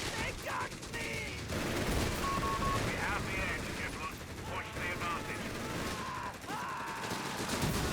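Dense gunfire from Company of Heroes 3 combat, with Royal Engineers firing and a heavy machine gun, keeps up nonstop rattling bursts and cracks, while a caster talks over the battle throughout.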